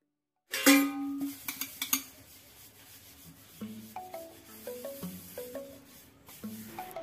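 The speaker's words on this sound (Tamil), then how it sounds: "அதை வந்து இப்போ கழுவிட்டுருக்கேன்." Dishes and utensils are washed by hand, with close clinks, knocks and scrubbing rubs in short irregular bursts, fairly quiet, and no talking.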